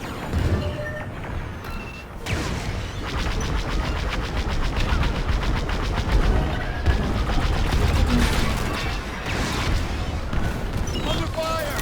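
Starfighters trade weapons fire during a space battle in the Star Wars Squadrons video game: dense, continuous rapid blaster bursts and booms, loud and close, with radio voices talking over the gunfire.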